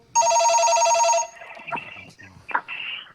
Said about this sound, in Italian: c'è una telefonata, sentiamola